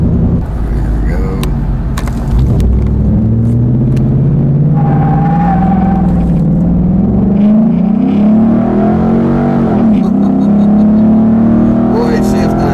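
A pickup truck accelerating on the road, its engine pitch climbing steadily, dropping at each gear shift and then rising again, loud inside the cab, with a person talking at times.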